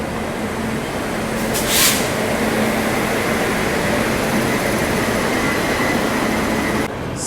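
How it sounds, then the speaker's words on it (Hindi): The New Delhi–Hyderabad Telangana Superfast Express pulls into platform 2 at Jhansi station with a loud, steady close-up rumble and roar, plus a brief sharp hiss partway through. "यहाँ प्लेटफॉर्म नंबर 2 पे आ रही है new Delhi Hyderabad Telangana superfast express."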